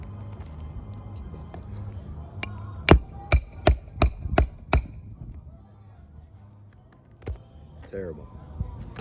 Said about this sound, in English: All the energy from the hammer is being driven into this shingle.